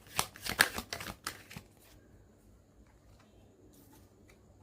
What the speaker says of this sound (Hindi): let me pull more cards